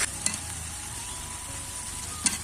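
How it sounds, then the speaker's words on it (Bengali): Pre-fried red potatoes tipped into hot spice masala in a pan, a steady close sizzle with a couple of brief scraping knocks at the start and end. "এরপর আলুগুলো ঢেলে দেবো আমি"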